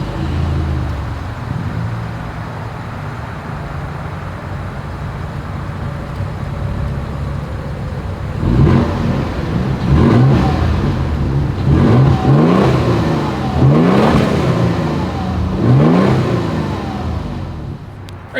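A 2023 Toyota Tundra 1794 Edition pickup truck idles with a deep exhaust rumble, then revs several times in quick rising bursts, loud and close.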